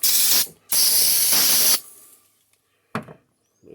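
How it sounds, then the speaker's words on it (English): Aerosol brake cleaner sprayed onto a Kawasaki Mule Pro FXT engine during an oil change: two loud, close hissing bursts, the second longer, then a short final spurt. "a little brake clean. Spray down in there and get all that little oil blew out down in there."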